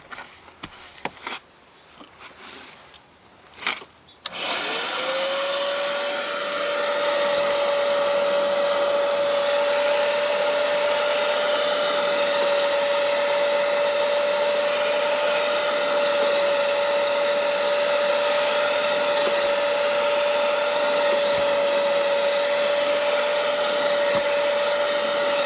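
After a few seconds of faint handling noise, a Rug Doctor Pro carpet cleaner starts up and runs steadily inside a car interior, a loud constant motor whine with a fixed tone that holds throughout.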